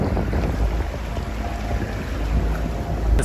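Sailboat crossing an ocean under engine power in near-calm air, a steady low motor drone with water and faint wind rush running continuously and fairly loud throughout, no voices.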